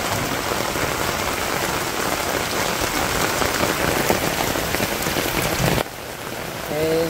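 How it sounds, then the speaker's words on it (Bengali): Steady heavy rain pours over a village with a dense, even hiss throughout. Near the end it drops to a softer patter, and a faint brief tonal sound appears. "অনেকদিন ধরে বৃষ্টি হয় না, একটু বৃষ্টি দেখাই"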